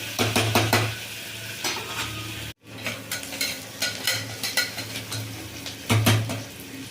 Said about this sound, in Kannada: ಈರುಳ್ಳಿ ಎಣ್ಣೆನಲ್ಲಿ ಫ್ರೈ ಆಗ್ತಾ ಇದ್ವಿ